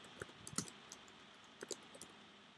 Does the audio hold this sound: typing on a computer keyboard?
yes